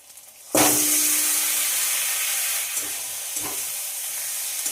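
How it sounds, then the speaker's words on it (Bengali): Marinated chicken dropped into a hot pan with onions and ginger-garlic paste, a sudden loud burst of sizzling that settles into a steady hiss, with a couple of stirring knocks later. "গ্যাসটা মিডিয়ামে রেখে চিকেনগুলোকে ভালো করে কষে নিতে হবে"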